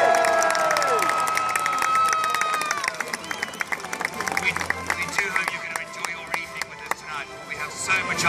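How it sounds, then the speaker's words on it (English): A crowd at a Warwick Castle show cheers and claps for the event's master, with a mix of shouts and voices over a busy outdoor background, loud at first and then easing into scattered noise. "Can I hear the biggest, the loudest cheer"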